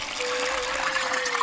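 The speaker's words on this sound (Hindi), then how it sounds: "सूखे भुट्टे को एक बर्तन में थोड़ा पानी डालकर भिगो दें।" Water pours into a pot of dried corn, a short continuous gushing and trickling stream, fairly close and steady, with no talking.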